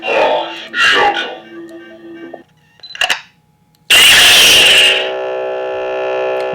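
A Bane Curved lightsaber switches sound fonts, giving a few short electronic effects, a brief crackle, then a loud burst of ignition that settles into a steady sustained hum.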